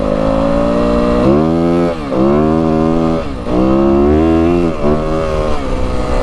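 A 2025 Yamaha WR250F dirt bike engine rides through Arizona desert, loud and close, holding a steady drone that rises and falls in pitch through several throttle surges with brief dips between them.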